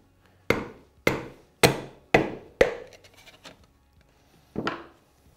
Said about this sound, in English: you're gonna use that to smack the piston into place